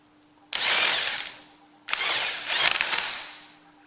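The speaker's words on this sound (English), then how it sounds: "we're just going to use our old Makita nut gun, and I don't think it'll take much to do to pop this off" A Makita nut gun on a Ferguson FE35 tractor differential centre fires two close, loud bursts, a short one and then a longer pulsing run, spinning a nut off with no talking.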